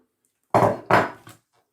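Potato salad with cheese being mixed in a small, overfull bowl, two close scraping stirs followed by a fainter third, then silence.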